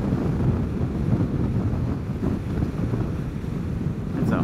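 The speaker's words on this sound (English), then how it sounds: "Pretty good wind there today." Steady, blustery wind roars across the microphone while riding a Vespa GTS 300 Super Sport scooter on a spring day, a continuous low buffeting rumble with no voices.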